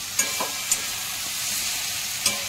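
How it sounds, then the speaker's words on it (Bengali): Banana flower curry frying in oil with cashews and raisins, a steady close sizzle broken by a few sharp scrapes of a spoon stirring the pan. "আর একটু নাড়াচাড়া করতে হবে।"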